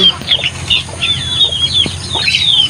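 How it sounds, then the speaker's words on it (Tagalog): Chickens chirp and cluck in short bursts inside a coop over a busy background rustle, with wings fluttering now and then, close by and without voices. "Nandito ako ngayon sa kulungan ng manok ko."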